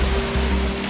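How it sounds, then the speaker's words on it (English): Water from a small three-meter waterfall cascade in a North African mountain pass rushes as a steady, dense roar, close and fairly loud, with no voices. "That's the 3 meter cascade."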